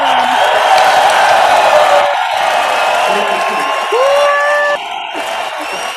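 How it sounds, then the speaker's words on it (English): Recorded fake crowd applause and cheering plays for a virtual event: dense, sustained clapping with whoops and shouts, loud and steady, then easing slightly near the end. "sometimes I can just make the crowd go wild, especially when it's a fake crowd. That's the best kind, I paid Curtis well for that long applause"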